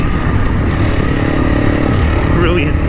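A Honda CRF300 Rally motorcycle ridden through puddles in pouring rain, its engine a loud, constant drone with road and wind noise and a voice talking over it.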